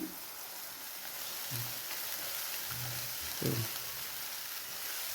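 Ginger garlic paste frying in a pan for a bottle gourd kofta curry, giving a steady, soft sizzle with a few faint stirring taps.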